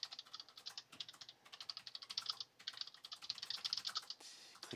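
Clicky digital keyboard typed on in rapid bursts, a dense run of sharp plastic clicks with a short pause partway, close but fairly quiet, no talking.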